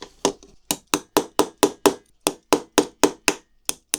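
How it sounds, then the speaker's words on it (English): Sharp, regular hammer blows knock a part of a model build into place, about a dozen evenly spaced knocks in quick succession, close and loud with no talking. "I will be able to get my hammer to knock this through"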